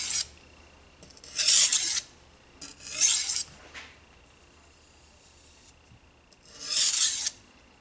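Knife blade stroked on a simple sharpening stone to refine the burr, three separate gritty rasping passes with quiet pauses between, close and fairly soft.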